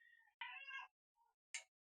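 A cat meows indoors: two close, clear meows followed by a short softer chirp and a final brief mew, alone with no talk.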